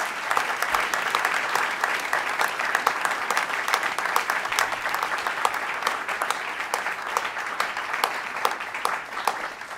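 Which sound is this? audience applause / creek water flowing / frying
audience applause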